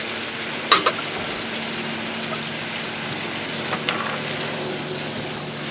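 Jjajangmyeon sauce with oyster sauce sizzles steadily in a pan, with a couple of sharp clinks of the stirring utensil near the start and again partway through.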